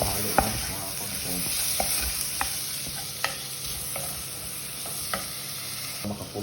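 Bitter gourd (ampalaya) sizzles in a frying pan while a utensil stirs it, with a steady hiss and scattered sharp scraping taps, nearby and with no talking.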